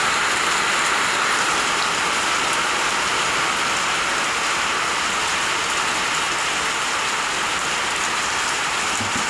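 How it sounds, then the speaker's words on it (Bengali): Steady rain pours down outdoors under a stormy sky, a loud continuous hiss of drops hitting surfaces without pause and no one speaking. "এই দেখেন বৃষ্টি, আচ্ছা এই যে বৃষ্টি,"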